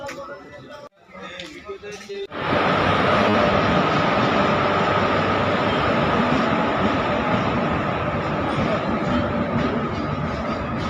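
A train at a railway station on a line toward Sealdah, a loud, close, continuous rumble that swells in after about two seconds and holds steadily, with people talking over the station noise before and during it.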